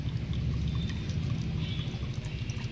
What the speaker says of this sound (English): this constant dripping also oxygenates the water